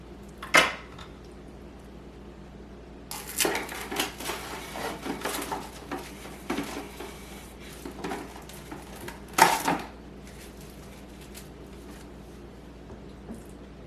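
A fillet knife slicing chicken breast into thin halves in a home kitchen: soft, quiet cutting and scraping with a few sharper clinks against the board, spread in short irregular bursts.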